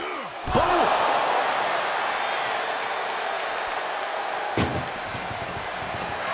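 Two heavy metallic slams of an ambulance door ring out at a WWE wrestling event, one early and one later, over a continuous roar of background noise.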